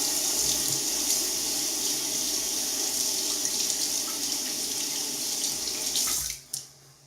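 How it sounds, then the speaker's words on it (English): Water runs steadily from a tap as a shimmed Ted Pella razor blade is rinsed, a constant close splashing hiss that cuts off near the end, leaving a few drips. "With a shimmed Ted Pella, which I gotta rinse off here"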